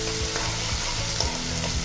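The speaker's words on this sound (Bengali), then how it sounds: "একটু নেড়ে চেড়ে নিচ্ছি।" Chillies and garlic paste stirred in a frying pan, a steady close sizzle with the spatula scraping and tapping in a regular rhythm.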